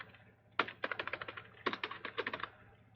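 Fast, crisp keystrokes on a computer keyboard as a name is typed into a CV document, two quick bursts of clicks at close range with no talking.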